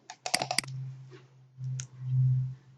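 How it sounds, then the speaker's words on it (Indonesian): Mouse clicking on a computer running Microsoft Word, a quick cluster of sharp clicks near the start, followed by low humming background sounds. "kita harus menggunakan klik double atau klik 2 kali"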